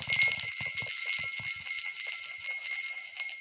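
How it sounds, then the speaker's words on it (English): Small sleigh bells tinkle brightly and continuously, with soft jingling shakes early on that fade into a sustained shimmering ring. "The tinkle of sleigh bells."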